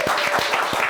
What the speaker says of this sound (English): let's give a round of applause for all of our panelists